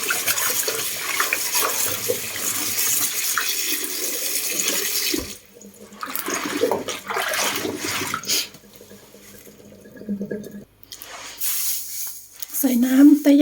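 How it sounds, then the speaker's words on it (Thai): Water runs from a tap into a pot for boiling pears, a steady splashing stream that pauses and resumes, while someone talks over and between the pouring. "เดี๋ยวต้มอันนี้ไว้ก่อน ใส่น้ำ"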